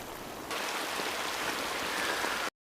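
Steady rain in a movie scene, a dense even hiss that starts abruptly and runs without break, moderately loud and alone with no talk over it.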